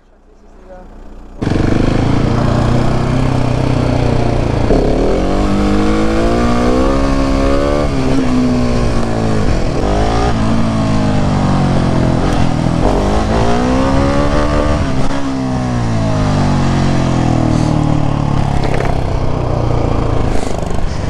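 Husqvarna 701 motorcycle engine roaring loud and close, its pitch climbing and falling through repeated revs and accelerations that run continuously for about twenty seconds.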